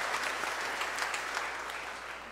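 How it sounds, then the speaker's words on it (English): Audience applause fills a church at an abbot's blessing ceremony, a steady wash of clapping from many hands that holds for a couple of seconds, moderately loud and even with no voices standing out. "Let's give them a round of applause."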